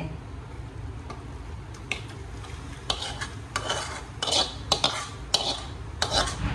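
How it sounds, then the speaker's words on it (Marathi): Chicken frying in a hot pan gives a steady low sizzle, broken by scattered clinks and scrapes of a utensil stirring against the pan, growing busier and louder toward the end. "आता मी चिकन टाकते"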